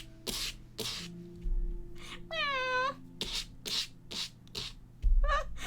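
A cat in the game No Longer Home gives a short rising-and-falling meow partway through. A second, shorter cry comes near the end, among scattered thumps and knocks indoors.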